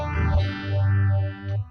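An electric guitar played through a Chicken Funk preset on an Avid 11 rack emulator produces a sustained, effect-laden tone with a sweeping, wah-like filter rising and falling in slow waves.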